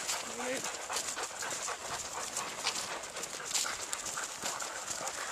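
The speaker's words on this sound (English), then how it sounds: "Chinook and Chad are just panting" Husky dogs pant steadily and close by on an outdoor hike, a quick rhythmic breathing over constant background noise.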